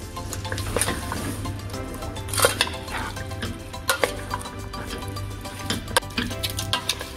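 A spoon stirs a salted beef mixture in a pot, giving soft wet churning with sharp intermittent clinks and scrapes against the metal, close and fairly quiet.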